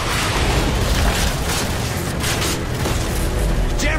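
A building collapses in Call of Duty: Modern Warfare 3, a loud, continuous, deep rumbling roar of crumbling debris with booming impacts, dense and close throughout.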